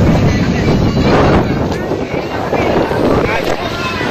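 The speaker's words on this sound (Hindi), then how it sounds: "कैसे तेज हवा चल रही है, धूल भरी आंधी" Strong wind from a dust storm in Delhi-NCR roars and buffets the microphone in a steady, loud rush that lasts throughout, with no clear voice heard above it.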